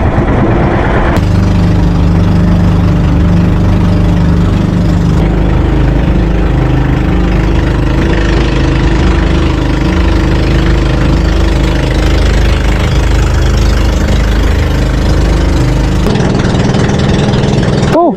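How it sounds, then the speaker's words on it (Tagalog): A fishing boat's engine idles steadily and loudly throughout, a continuous low throbbing rumble with no talk over it. "Natakot din sa tunog ng makina rin."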